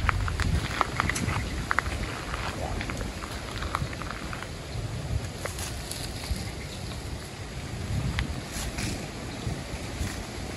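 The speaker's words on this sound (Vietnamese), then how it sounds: "Gió quá gió cho nên nó nhúm lửa cũng khó." Strong wind buffeting the microphone in an open rice field during rainy weather, a steady loud roar and rumble with gust surges throughout and no speech.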